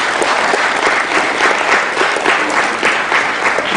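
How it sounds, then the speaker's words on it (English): An audience at a public gathering applauds the city of Brooklyn Park, with dense, loud, sustained clapping from many hands and no break throughout. "a round of applause for the city of Brooklyn Park."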